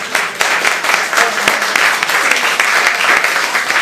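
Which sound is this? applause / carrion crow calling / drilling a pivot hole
applause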